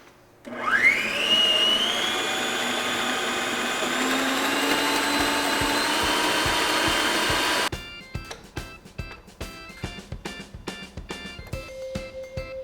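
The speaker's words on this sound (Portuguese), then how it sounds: "Aqui eu coloquei o chantilly bem gelado e vou bater em velocidade alta." Electric hand mixer whipping well-chilled whipped cream at high speed for a strawberry pie: a loud, steady motor whine rising in pitch for about seven seconds, then rattling, clattering bursts as the beaters work the thickening cream, with no talk.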